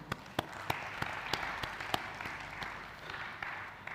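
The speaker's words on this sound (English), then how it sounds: "A big round of applause to Hans India." A conference audience applauds Hans India, with several loud, distinct claps close by standing out over a softer wash of clapping from the hall that gradually thins out.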